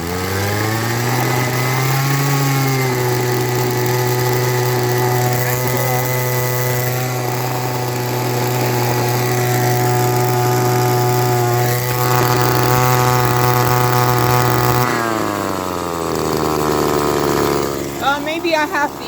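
Echo SRM-200BE weed eater engine running rough below full throttle, a loud, close, sustained buzzing drone that sags and wavers in pitch around the middle and drops off near the end.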